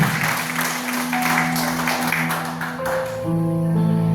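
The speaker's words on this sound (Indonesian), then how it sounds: "Beri tepuk tangan bagi Allah kita." A church congregation in Denpasar, Bali claps during a sermon, a brief burst of hands blending with sustained keyboard chords that carry on after the clapping fades.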